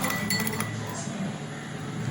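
A spoon stirs sugar solution in a glass, giving several quick light clinks close by in the first half second, then a steady background hiss with possible faint speech.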